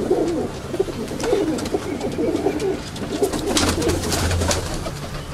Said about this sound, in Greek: πέταξε και ο Θόδωρας στα περιστέρια του και βγάλανε αυτό το πρόγραμμα.